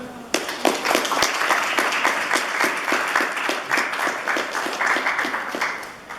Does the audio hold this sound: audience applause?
yes